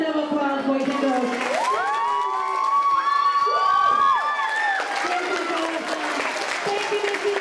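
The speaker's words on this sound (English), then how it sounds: "I think we can give them a better round of applause" Children at a 2nd–5th grade school assembly clap and cheer loudly, with high voices shouting and whooping over a steady roar of applause that swells in the middle and carries on throughout.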